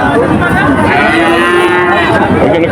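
Cattle at a busy village cattle market, one loud close drawn-out moo over a dense crowd din of voices and animals.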